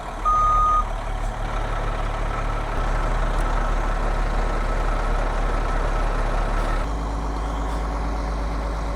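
A stuck truck revs its engine with wheels spinning in place, a loud steady roar that holds throughout, with a reversing beeper sounding in the background.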